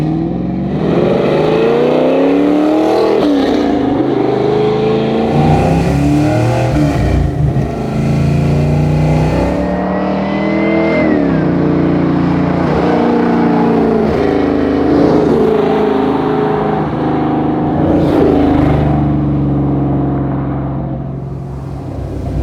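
An Eleanor Mustang revs and accelerates while being driven, the engine note climbing and dropping through repeated throttle blips and gear changes, loud and close for the whole stretch.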